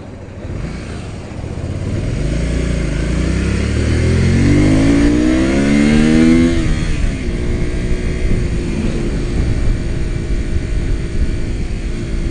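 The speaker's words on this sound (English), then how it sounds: "so as you can hear, got those carburetors in, and I was having a blast on its first ride." A Honda VTR motorcycle fitted with new carburetors revs up on a ride, its engine note climbing steadily and loudly before settling back to a steady cruising drone, with no talking.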